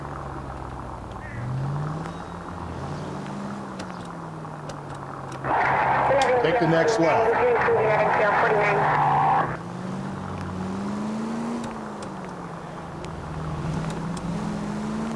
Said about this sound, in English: I think this car is faster than our last one.